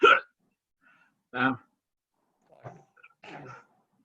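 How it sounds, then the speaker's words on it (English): An adult man hiccups sharply and loudly, with a few scattered short vocal sounds after the first hiccup, close to the microphone in an otherwise quiet room. "Oh, it's bloody hiccups."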